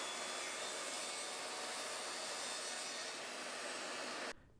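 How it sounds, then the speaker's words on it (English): A track saw rips steadily through a walnut slab to take off the live edge, a loud continuous whining cut lasting several seconds before the blade stops abruptly. "The first step was to remove the lib edge with the track saw from both sides of the slab."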